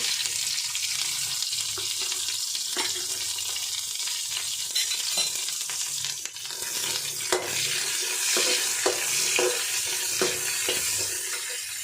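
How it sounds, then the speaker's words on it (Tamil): Curry leaves and onion fry in a pan for cabbage poriyal, making a soft ongoing sizzle broken by intermittent sharp clicks and scrapes of stirring, with no one talking. "கருவேப்பிலை சேர்த்துக்கலாங்க வெங்காயம் சேர்த்துக்கலாங்க"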